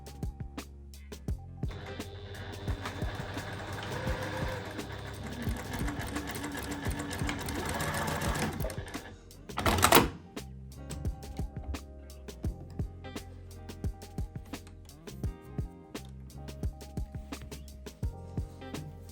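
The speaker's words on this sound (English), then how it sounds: "Sew centre back seam with a 1 cm seam allowance." A sewing machine stitches a skirt waistband's centre back seam at a 1 cm allowance in one long steady run, then stops for a sharp clunk and gives way to short bursts of stitching and handling clicks.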